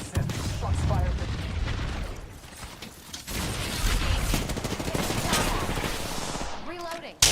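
Rapid bursts of gunfire in a tactical shooter video game, loud and dense with booms mixed in, continuing under game voice callouts and effects for several seconds.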